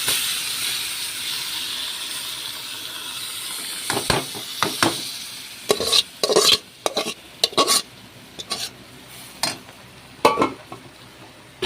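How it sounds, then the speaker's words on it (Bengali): Bottle gourd and egg curry being stirred in a pan: a steady sizzling hiss at first, then a series of scraping spoon strokes against the pan come in irregular bursts over the frying, with no talking. "খুব ঘন ঘন নাড়তে হবে যাতে না নিচে বসে যায়।"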